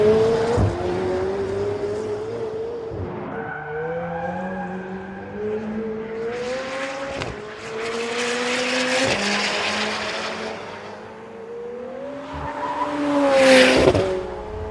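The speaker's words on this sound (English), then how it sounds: "Sound of a car, it's part of its personality." A 2018 McLaren 720S supercar drives at night in pouring rain, its engine rising and falling through several revving gear changes, with tire hiss on wet road and a loud, close acceleration surge near the end.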